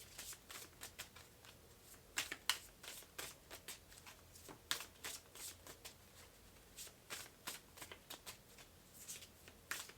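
Tarot advice cards shuffled by hand in a quick run of crisp, close riffles and flutters, irregular bursts following one another for the full length without any speech.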